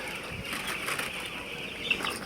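Eight-day-old broiler chicks on a poultry farm make a soft, busy background of peeping and rustling wings, faint and continuous throughout.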